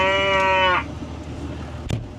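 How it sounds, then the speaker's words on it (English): A hungry cow on a farm lets out one loud, drawn-out moo, then falls quiet against low farmyard background with a brief rustle near the end. "Cows are hungry."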